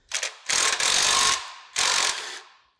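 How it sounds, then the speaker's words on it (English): An impact wrench driving the belt tensioner screw on a Lucas horizontal boring mill, two loud rattling bursts separated by a short pause, close up with no talking. "I'm just gonna use my impact wrench."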